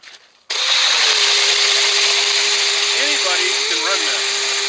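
An Icegators 9.5 ice auger bit spins up abruptly and bores a big hole through ice, a loud, steady, close whining drone that holds level for several seconds with slight pitch wobbles near the end.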